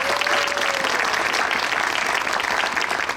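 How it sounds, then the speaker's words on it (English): Audience applause at a history and culture center groundbreaking ceremony, a dense, steady round of clapping that carries through the whole stretch with no voices on top. "Give them a round of applause."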